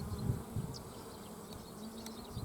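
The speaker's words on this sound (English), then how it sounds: "You open up the hive, see a lot of bees." Bees buzzing at an open hive, a faint continuous hum of many insects close by, with a few louder low bumps early on and no talk.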